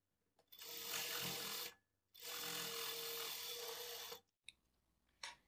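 Sewing machine stitching a blouse seam, running in two steady bursts of about a second and a half and two seconds with a short pause between, followed by brief faint clicks and handling.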